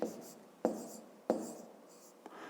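A pen or pencil writes the number 106 by hand on paper, heard as several short scratchy strokes separated by brief pauses, close and quiet.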